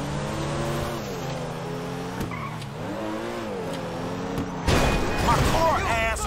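A Comet Retro Custom drives in GTA 5, its engine note rising and falling in pitch as it revs through gears, then a burst of tire skid and crash noise near the end, with a voice talking over it.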